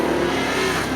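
An orange Firebird drag car at Seekonk Speedway roars nearby with a steady, loud engine note, building slightly as it revs through a continuous one-second burst.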